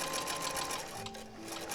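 A sewing machine stitches the fronts of a pair of vintage trousers, running in a fast, steady mechanical whir up close, briefly slowing before picking up again, with no talk.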